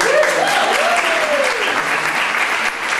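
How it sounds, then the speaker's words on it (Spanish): A theater audience at an improv comedy show breaks into dense, steady applause for a volunteer, with a few voices calling out at the start and the clapping holding strong throughout. "muy bien, un aplauso."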